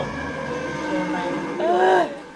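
A train passing in the Roblox horror game Doors, a steady rumbling drone with a rising whistle-like tone near the end, heard loud and close.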